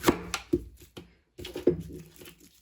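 A knife chops onion roughly on a board for butternut squash soup: a handful of separate sharp thunks with short pauses, close and alone.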